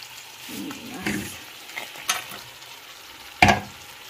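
Potato and tomato are sautéed in a pan with a soft sizzle, with scattered scraping strokes of a spatula and one sharper clatter near the end, close and moderately quiet.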